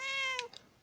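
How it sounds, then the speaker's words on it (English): A cat-meow car horn from the game Forza Horizon 5 sounds once, a clear, close, tonal meow lasting about half a second, followed by a couple of soft clicks and quiet. "the Cat Meow car horn, which sounds a bit like this."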